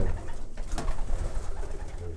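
Pigeons coo softly and repeatedly close by in a pigeon loft, their throaty calls overlapping against a busy, muffled indoor background.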